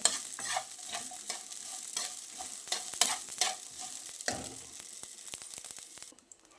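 Red chilies fry in hot oil in a pan for fenugreek chutney, giving a steady close sizzle broken by scraping stirs, with no talk.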